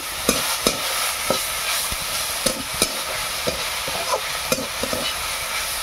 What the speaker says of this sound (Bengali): এবার জল শুকিয়ে গেছে, মা নেড়ে দিচ্ছে।